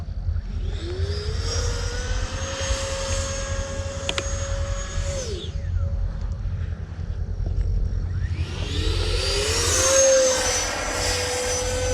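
Freewing F-22 90mm RC jet making a loud, steady ducted-fan roar with two rising-then-falling whine passes as it sweeps by, swelling near the end.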